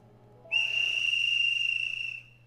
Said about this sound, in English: we heard the frantic tweeting of a whistle from some distance away